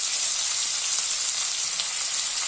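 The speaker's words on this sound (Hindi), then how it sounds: "थोड़े देर सभी को हम भून लेंगे।" Onion, ginger, green chilli, garlic and black pepper fry in mustard oil and butter with a steady, dense crackling sizzle, close and continuous, with no voices.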